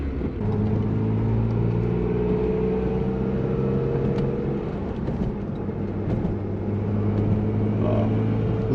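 A Mitsubishi Conquest that needs lifter and timing work drones steadily while driving, a continuous low rumbling engine note with slight swells in revs, close and alone.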